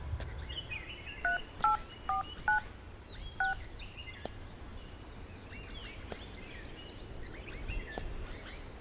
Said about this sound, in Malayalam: ഫോൺ വിളിച്ചിട്ട് കിട്ടുന്നുമില്ല.